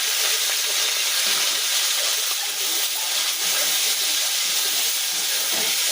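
Cauliflower pieces fry in hot oil without salt, giving a loud, steady sizzling hiss scattered with small spluttering pops throughout.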